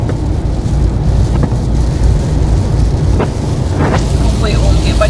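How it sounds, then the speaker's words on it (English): Light rain on a Ford Transit campervan driving through Kansas after dark gives a steady, loud rushing wash of road, wind and rain noise that runs through the whole stretch with no clear breaks. "Now we've got a little rain."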